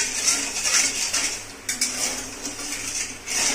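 Sugar syrup stirred in a metal pot over a high gas flame for rosh bora, a steady scraping and clinking of spoon against pot running throughout, close and moderately loud, with no talking.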